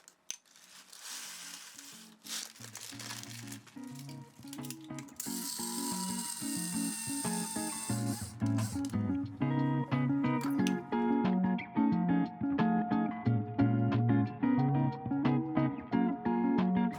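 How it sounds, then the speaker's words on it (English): Coffee beans crunched in a grinder, a fairly quiet, rhythmic ratcheting and clicking that repeats steadily throughout, with faint tonal sounds in the background. "I'll usually grind my own coffee and put it in a jar to keep it fresh"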